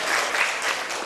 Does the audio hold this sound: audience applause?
yes